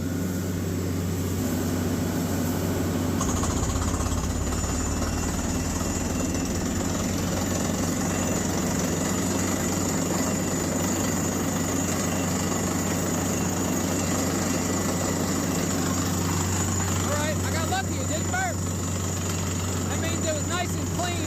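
A heavy well drilling rig engine drones steadily throughout, a low constant rumble with a brief louder surge early on and some mechanical whine.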